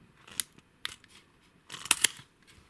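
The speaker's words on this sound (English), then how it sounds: "Here I am using the blade lock." The blade lock on a Koiss K519 digital tape measure clicks several times, sharp plastic snaps close up with a quick cluster of clicks near the end and quiet gaps between.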